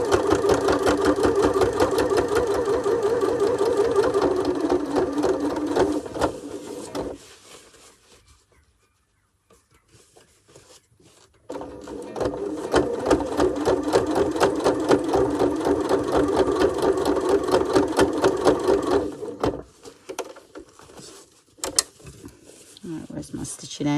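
A sewing machine runs in long steady bursts while stitching a scrap-fabric journal pouch, with a short pause mid-clip before the hum resumes, close and loud, a few soft knocks near the end.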